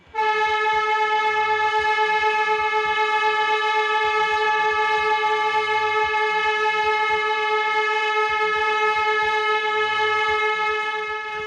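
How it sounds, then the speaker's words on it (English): An industrial air horn sounds one long, loud, steady blast for a rescue signal, lasting over ten seconds without a break. "The signal is one long blast on the air horn."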